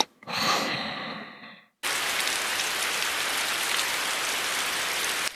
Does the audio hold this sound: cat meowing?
no